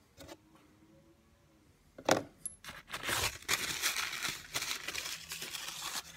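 Two metal bolts from a Walker mower transmission handled together, sharp clinks and rattling jingles starting after a quiet moment, close and clear without talk.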